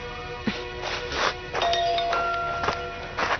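A phone rings in a dubbed Hollywood movie scene, with repeated bright electronic chiming tones in short bursts and a few soft shuffles between them.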